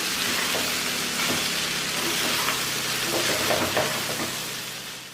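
Flattened rice poha upma being mixed in a hot pan gives a continuous soft sizzle with scattered scraping stirs and light clinks, without any talking.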